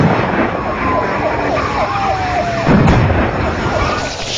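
Police response vehicle siren sounding at a moderate distance, a steady wailing tone gliding up and down over continuous road and engine rumble, with a brief louder burst near the end.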